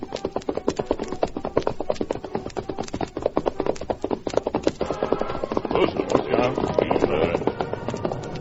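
A horse's hooves clip-clop in a close, steady rhythm in an old radio western drama. The pace quickens slightly toward the end, with faint voices underneath.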